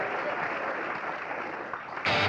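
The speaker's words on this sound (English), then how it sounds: "the audience applauded him" A studio audience breaks into applause and cheering, a dense wash of clapping that holds steady and then swells sharply louder near the end.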